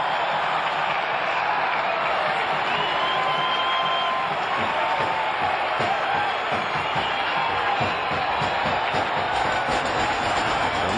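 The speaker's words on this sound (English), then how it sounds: "Listen to this crowd. Everybody in the ballpark on their feet." Large ballpark crowd at a Toronto Blue Jays vs Cleveland Indians baseball game, fans on their feet making a steady, loud roar of cheering and whoops throughout, with no break in the noise.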